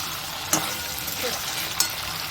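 Chicken frying in a little butter in a pan, with a continuous close sizzle and two brief sharp scraping stirs.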